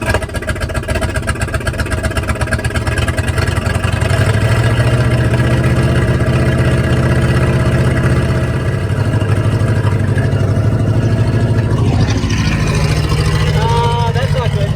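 A 1979 Camaro Z28 engine fires up and settles into a loud, steady idle with a low rumbling drone, running continuously close by while a voice speaks over it near the end.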